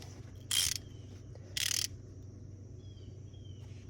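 Ratcheting clicks from a wrench turning a brake torque nut on an SN95 Mustang during a rotor replacement, two short bursts close by, separated by quiet pauses, no talking.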